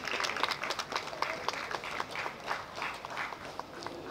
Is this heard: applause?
yes